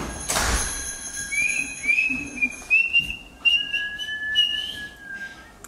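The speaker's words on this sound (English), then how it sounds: "Can you show me how you whistle?" A child whistles a few thin, wavering tones, with short gliding notes repeated at close range and brief gaps between them.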